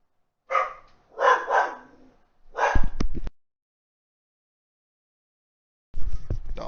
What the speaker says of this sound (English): Dogs are going crazy in the background.